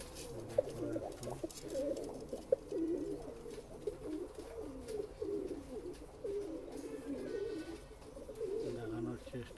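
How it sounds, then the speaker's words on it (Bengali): Pair of Madras pigeons cooing in low, rolling murmurs, steady and fairly close, with faint background noise. "দেখুন কি ধরনের পায়রা, কেমন পায়রা"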